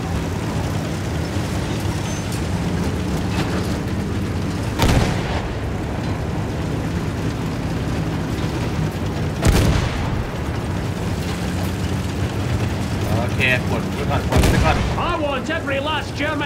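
Battlefield 1 artillery fire, three loud booming blasts spaced about five seconds apart over a constant rumbling battlefield din, with a voice speaking in the background.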